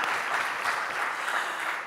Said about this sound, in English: a round of applause for the tech team